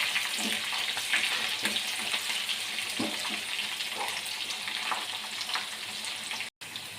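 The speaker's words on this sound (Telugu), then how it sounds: "ఆనియన్స్ ఫ్రై చేసుకోవాలి" Onions frying in a pan until golden give a steady sizzle and crackle throughout, close by, with no voices.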